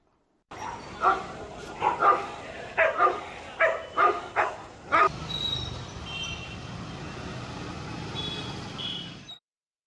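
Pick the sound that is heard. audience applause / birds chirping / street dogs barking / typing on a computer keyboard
street dogs barking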